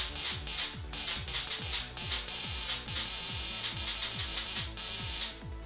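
A 400,000-volt high-voltage module fires its electric arc, giving a loud, harsh, crackling buzz that runs almost continuously with rapid irregular snaps and pops, close up.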